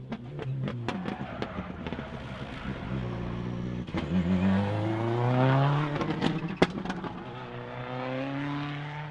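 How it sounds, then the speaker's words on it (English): Subaru Crosstrek rally cars race through a super special stage at The Ridge Motorsports Park. The exhaust rises and falls as a car passes and revs hard, with sharp pops and bangs scattered throughout. "You'll note that the exhaust sounds very different between these two."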